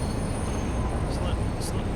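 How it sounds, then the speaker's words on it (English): A train in the factory-building video game Satisfactory slows down, a dense low rumble of rolling wheels with a couple of brief high squeals, steady and close. "And I'm gonna stop the train soon, right?"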